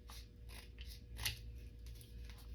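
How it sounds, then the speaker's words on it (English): Scissors snip through paper for a journal page in a quiet room, several soft crisp cuts in a steady rhythm, faint and close. "take my scissors and try to stay straight"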